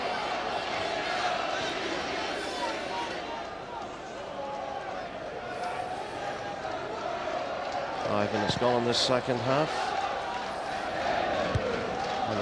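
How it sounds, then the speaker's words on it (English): A football crowd at the 2001 Irish Cup Final keeps up a dense, steady roar that swells slightly near the end, running continuously beneath a commentator's voice. "And the crowd, they were a bit quiet towards the end of the first half, but they're certainly picked up."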